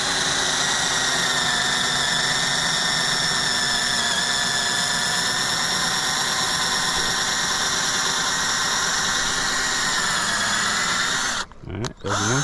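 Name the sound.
Hyper Tough 12V cordless drill drilling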